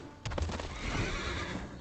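A horse whinnies loudly in a long, shaky neigh with a few hoof clops at the start as a creature card is played in the digital card game MTG Arena, close and alone without talk.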